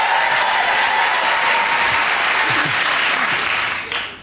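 A studio audience at the Never Mind the Buzzcocks music panel show claps in loud, dense applause that holds steady, with faint voices beneath it, then thins out near the end.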